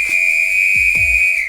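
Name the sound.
shrill whistle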